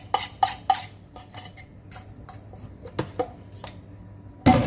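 Food being moved into a small container in a kitchen, with a run of light clinks and scrapes from utensils against dishes, close and irregular, ending in a louder clatter.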